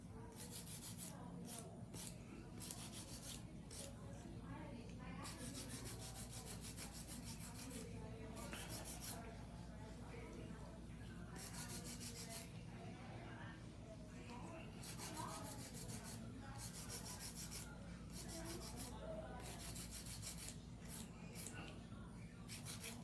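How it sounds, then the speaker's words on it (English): Acrylic nails being hand filed before drill work on a stiletto full set, a steady raspy rubbing that repeats in quick strokes with brief pauses, over a constant low hum in a nail salon. "Of course, hand filing. Smooth out the surface beforehand."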